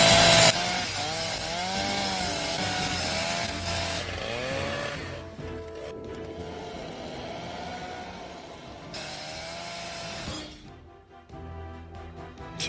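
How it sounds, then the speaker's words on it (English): A chainsaw runs loudly in an action film scene starring Chuck Norris, its engine revving up and down in repeated sweeping surges before winding down near the end. "Chuck stops the chainsaw with his hand"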